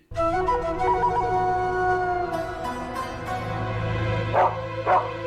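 Two dogs barking and howling at a wedding amid a music-like tonal background, with a pair of sharp, loud barks near the end.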